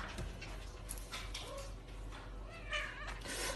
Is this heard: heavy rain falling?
no